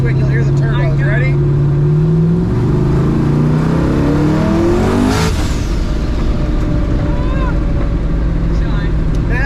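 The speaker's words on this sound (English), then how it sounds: "You'll hear the turbos." A 1600hp twin turbo Ford Mustang accelerates hard from a roll, its engine note climbing in pitch as the turbos spool and whistle, loud and close from inside the car, then settling into a steady roar.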